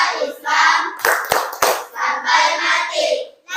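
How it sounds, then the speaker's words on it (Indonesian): Children clapping their hands together in a classroom, a crowd of claps forming brief bursts amid a busy room of young voices, with some sharper individual claps standing out near the middle. "Oke, tepuk tangan dulu."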